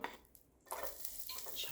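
Onion fries in oil in a pan while being stirred, giving a soft, steady sizzle with light scraping of the stirring utensil, quiet and close, with a brief lull before the stirring picks up again.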